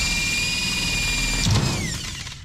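A power drill whines at a steady high pitch, then gives a brief clunk as the drill bit snaps and winds down as the motor slows.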